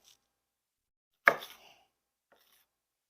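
A knife chops through a piece of celery on a board in a single sharp, close cut, then a faint softer tap follows in otherwise quiet surroundings.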